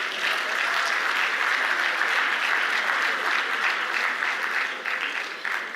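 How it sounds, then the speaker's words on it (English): Sustained, loud applause from a meeting audience for two presidents at the Afreximbank 2025 annual meetings, a dense steady wash of clapping that holds for several seconds and tapers slightly near the end. "Ladies and gentlemen, I think the two presidents deserve a resounding round of applause."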